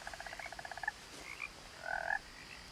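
Frog croaking in the woods near a river in the video game What Remains of Edith Finch: a quick, even train of about a dozen croaks, then a few scattered calls, clear with no talking.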